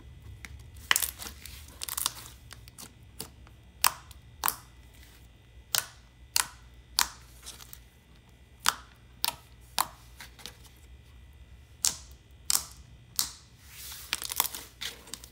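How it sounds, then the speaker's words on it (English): Thick, soft slime is squeezed and played with up close, giving a steady run of sharp thwacks and crisp clicks at irregular intervals over quiet background. "I really like playing with this one since it thwacks and clicks so well, even for how thick it is."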